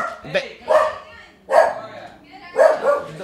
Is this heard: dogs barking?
yes